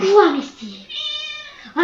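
A house cat gives a clear, drawn-out meow close by, following a brief spoken exclamation and ending as another voice begins.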